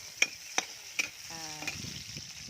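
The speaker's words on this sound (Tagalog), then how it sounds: "Nagluluto ko ng bataw." Bataw beans cooking in a pan over an outdoor rural fire, with a soft sizzle and a few sharp utensil clinks at the start of a brief, quiet moment.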